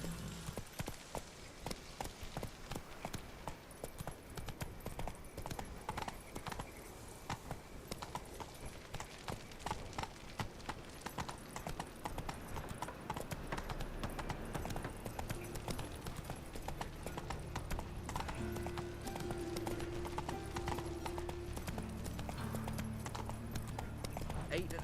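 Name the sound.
horse galloping in The Witcher 3 video game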